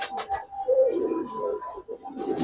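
Soft, low cooing from a molting Giribaz pigeon with a white tail at a pigeon farm. The cooing swells and fades over a couple of seconds amid faint background noise.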